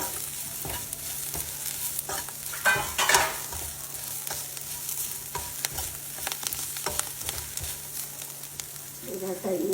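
Curry leaves frying in a pan for a mackerel curry, a steady close sizzle with crackling spits and occasional stirring scrapes throughout.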